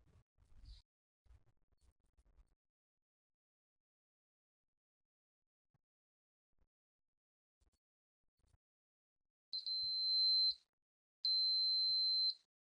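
A multimeter continuity tester gives two clear, steady electronic beeps near the end, each about a second long with a short gap between. Earlier come only faint handling clicks and quiet room noise.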